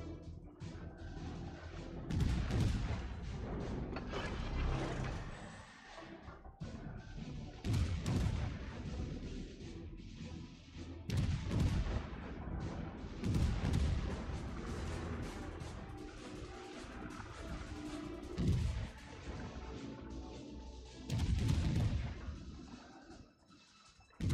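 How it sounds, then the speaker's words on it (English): Anti-aircraft guns aboard a warship in a naval battle game, rumbling and booming in repeated heavy clusters of blasts, loud and continuous. "Provide anti-aircraft fire support."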